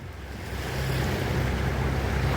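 Swollen river rushing past at a dam area in Mexico, a broad continuous roar of flowing water mixed with wind noise on the microphone, growing slightly louder and staying steady.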